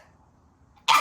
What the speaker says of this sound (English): I gotta sneeze, guys.